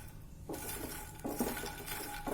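Crisp, dry crackling of pan-roasted fox nuts (makhana) being broken apart, a few brittle snaps standing out over a light rattle of pan and utensil noise.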